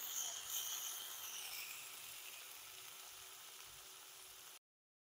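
Tomatoes sauté with ginger and garlic in a pan for a mushroom and baby corn tava bhaji, giving a steady, soft, close sizzle that runs evenly and then cuts off abruptly.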